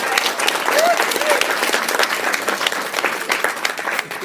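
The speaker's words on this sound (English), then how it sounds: "Let's give her a big round of applause." Audience at a team meeting applauds a guest speaker coming up from the back of the room; continuous, fairly loud clapping from a sizable crowd, with a faint voice or whistle briefly rising above it early on.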